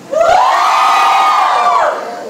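A group from Singapore in a crowded hall gives one loud, unified shout that swells quickly, holds steady for nearly two seconds, then cuts off.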